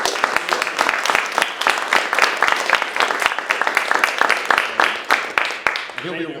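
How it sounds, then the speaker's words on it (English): Audience applause at the end of a lecture by a university speaker, a dense, steady roar of many hands clapping at close range, continuing for several seconds before fading slightly at the end. "let's give Dr. Morales Doyle a round of applause"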